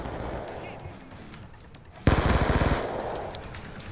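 Automatic weapon fire in the multiplayer shooter Call of Duty Black Ops 2: a loud, rapid burst erupts suddenly after quieter game ambience, rattling on for under a second before fading into a noisy background.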